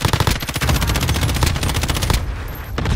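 Rapid automatic gunfire from the Warzone video game during a Plunder match, loud bursts of machine-gun fire, a short pause, then shots resume near the end.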